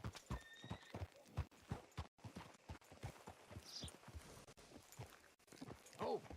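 Horse hooves clop steadily at a walking pace in the video game Red Dead Redemption 2, ending with a short whinny; a voice speaks quietly underneath.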